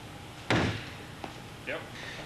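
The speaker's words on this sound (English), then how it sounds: "The door withstood the kicking attack very well and didn't fail." A door under a security test takes a heavy kick, a single loud slam near the start, followed by fainter knocks and a brief voice in the background.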